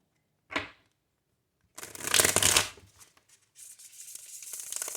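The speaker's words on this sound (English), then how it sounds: "Okay, we're doing a lot of shuffling." Cards are shuffled in short riffling bursts, a brief one and then a longer loud run, followed by softer continuous shuffling, close up.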